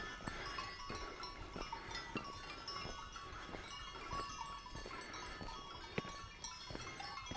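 A large herd of goats with clanking bells moves along a trekking trail, the irregular metallic clinks and tinkles sounding continuously at mid distance over steady outdoor ambience, with occasional faint bleats.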